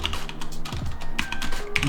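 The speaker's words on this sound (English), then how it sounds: "I'm just typing my password" Rapid, uneven clicking of keys as a password is typed on a computer keyboard, close and steady with a few sharper taps.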